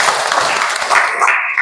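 Classroom applause from students, loud close clapping that stays dense and steady before tapering at the end.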